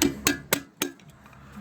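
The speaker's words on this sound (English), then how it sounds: "sometimes I have to hit them with a hammer and a screwdriver" Four sharp metallic taps of a hammer striking a screwdriver on a stuck CV axle of a 2008-2013 Nissan Rogue, in a quick, slightly uneven rhythm, close and fairly loud, followed by quiet.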